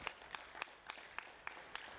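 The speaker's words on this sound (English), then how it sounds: "Big round of applause." Faint, evenly spaced claps ring out from an audience at a boxing contract-signing event as an unbeaten young boxer, Fernando Vargas Jr., is brought up on stage; the sparse hits sound like a few people clapping rather than a full ovation.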